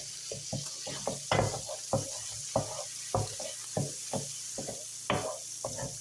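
Ground meat cooking in an electric skillet for an egg roll bowl, a steady background sizzle broken by about a dozen short scraping and stirring strokes at a fairly even pace, close up and with no talking.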